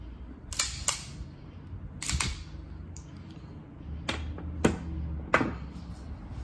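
A firearm going off after a trigger press during a trigger tutorial: several sharp, isolated cracks spaced a second or more apart, fairly close, with a steady low background hum between them and no talking.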